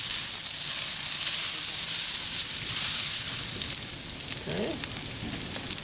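Shrimp and butter sizzle on a Blackstone griddle with a constant bright hiss that eases slightly toward the end, as a voice speaks briefly over the frying.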